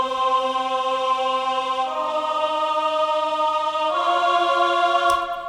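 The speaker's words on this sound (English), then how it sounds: "I paired it with another one called under orchestral choir" Sustained orchestral church choir sample from Logic Pro X with the low end EQ'd out, a thin, airy held chord that shifts to new pitches twice, steady and fairly loud with no talking.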